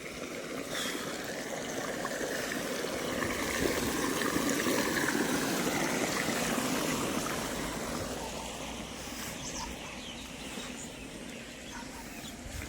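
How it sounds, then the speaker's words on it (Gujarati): Irrigation water runs into a sorghum field in a steady, fairly loud broadband rush that swells slightly midway and continues unbroken, with no voices. "મેને પાણી ચાલુ કરી દયા હે"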